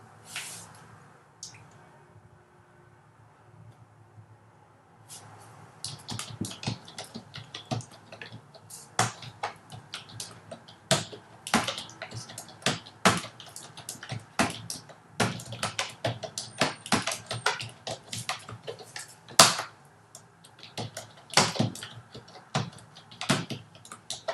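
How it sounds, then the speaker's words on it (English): Someone types on a computer keyboard in a quiet room. After a near-silent start, irregular sharp clicks and clusters of keystrokes come up close and continue steadily to the end. "God, this keyboard is like Charles Bukowski's typewriter."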